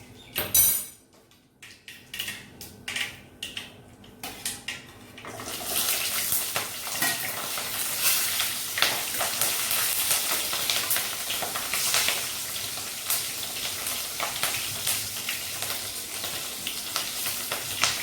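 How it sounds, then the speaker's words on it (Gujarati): Green chillies hit hot oil already tempered with cumin, mustard seeds and a pinch of asafoetida, cooking for stuffed capsicum. A few clinks and splashes come first, then a loud, steady hiss and crackle of frying continues without pause. "અને હવે મરચાંનો વઘાર કરી દઈએ."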